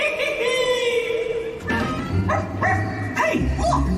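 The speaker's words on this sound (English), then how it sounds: "Hey, look, a dog." At a Disney World Halloween party show, a ghost dog gives several short barks that break into a musical, theatrical soundtrack partway through, with a voice briefly heard near the start.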